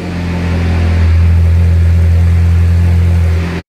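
An old Ferrari engine idles steadily while warming up, a loud, close, even droning hum with a low rumble that holds constant before cutting off abruptly at the end.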